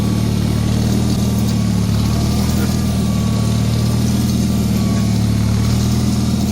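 Volkswagen trike with a 2180cc kit engine driving up onto snow, a steady low engine rumble close by with a brief dip as it nearly stalls, continuous throughout.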